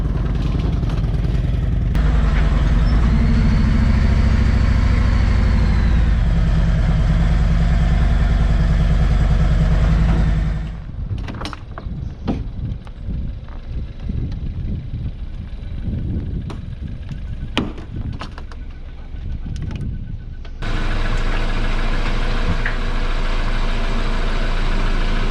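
A motorcycle and a car driving onto an RV trailer behind a Class A motorhome: a loud, steady engine rumble for about ten seconds, then quieter clattering and intermittent engine sounds, then a steady rumble again.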